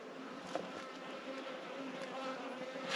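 Bees buzz around hives in a cave gully, a faint continuous hum of many insects with a few closer passes, no talk.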